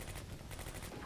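Repeated firing in the Combat Mission World War II game, with an armoured car and possible mortar in action, coming as a dense, steady rattle of shots with no break across the short moment.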